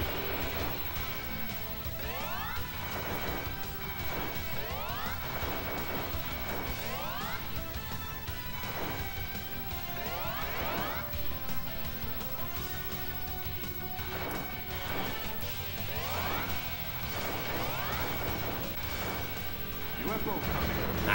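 Enemy craft blowing up in the space shooter game Gradius Gaiden, a dense run of crashing blasts and swooping effects layered over constant loud game music and a talking voice.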